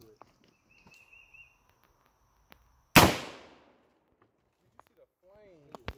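A KS7 shotgun fires one loud, sharp muzzle blast outdoors that rings and decays over about a second, surrounded by faint footsteps, small clicks and light background noise.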